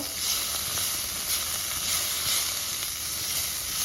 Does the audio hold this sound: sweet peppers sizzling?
yes